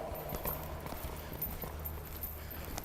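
Horse hooves clip-clopping in a steady rhythm during a riding lesson in an arena, fairly faint and continuous, with a quiet voice briefly audible.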